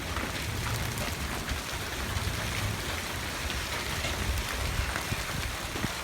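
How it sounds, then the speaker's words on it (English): Hail and heavy rain pour down during a thunderstorm in Fresno, a dense, steady hiss of drops and pellets striking surfaces nearby with scattered sharper impacts, no talking. "Ah, it's raining too hard. I mean, it's hailing too hard."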